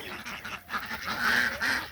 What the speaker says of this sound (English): The birds are showing me where the bird food is.